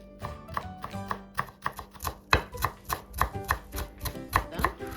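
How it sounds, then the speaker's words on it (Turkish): Quick, crisp knife chops on a cutting board, a rapid uneven rhythm of close taps as parsley is finely minced. "Ardından bir tutam maydanozu hemen ince ince kıyıyorum."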